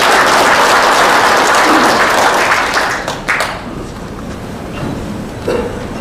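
Loud, dense audience applause welcomes the mayor at a founding seminar in a Seoul press center conference hall, sustained and fading slightly toward the end.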